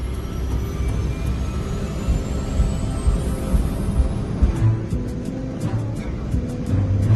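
A Japan Air Lines jet airliner, flight 123, taxis at Haneda airport with a loud, steady engine roar and rumble and a high whine sweeping upward, continuous throughout.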